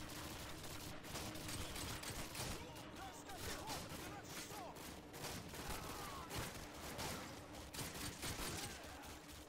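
Rapid bursts of automatic and single gunfire from the video game Call of Duty Modern Warfare 2, during a prison assault mission, crackling steadily and loudly for the whole stretch, with voices speaking at times amid the shooting.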